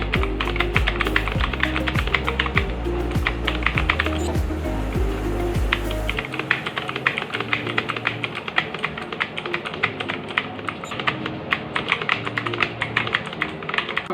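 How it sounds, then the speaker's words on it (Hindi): Rapid typing on a mechanical keyboard for gaming, a dense, continuous close clatter of crisp key clicks over a faint music bed, no talking. "आपको ये कीबोर्ड की आवाज़ कैसी लगी वो बताना"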